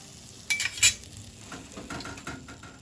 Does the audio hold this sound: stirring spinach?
yes